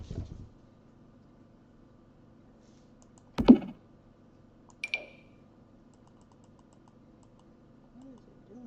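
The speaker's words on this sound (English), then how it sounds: "Y'all heard me clicking." Mouse clicks while playing The Sims during a left-hand-only renovation, a sharp loud click near the middle followed by a fainter pair of clicks a second later, over a quiet room with steady low hum.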